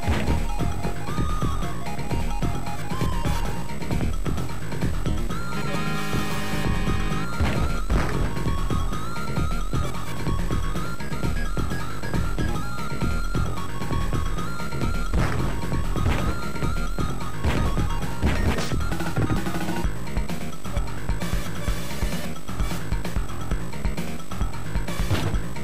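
Road Rash 3, the motorcycle racing game on the Sega Mega Drive, plays loud and busy: driving chiptune music layered with repeated crashes and smashing impacts, with no talking.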